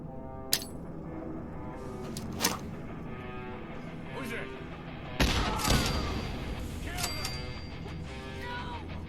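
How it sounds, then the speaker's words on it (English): A grenade tossed during combat in the video game Fallout 4 bursts with one loud, broad explosion midway, preceded and followed by scattered gunshots, thumps and clanks amid a busy game soundscape. "Now let's see if we can chuck a grenade."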